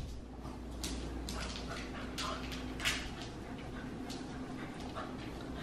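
A puppy whimpers and gives small yips close by, soft high cries over a steady indoor hum, with people talking now and then.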